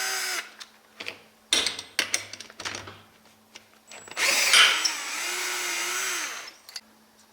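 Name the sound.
power tool removing old exhaust manifold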